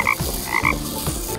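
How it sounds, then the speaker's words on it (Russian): A toy frog on a children's busy board gives a few loud, close electronic croaks in short bursts, alone with no voices. "Лягушка говорит ква-ква."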